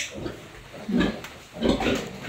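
A nursing sow grunts in soft, low bursts as her piglets suckle, the grunts coming in a few rhythmic clusters at close range with faint background noise.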